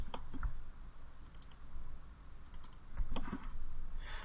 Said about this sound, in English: So I'm just holding shift and double clicking.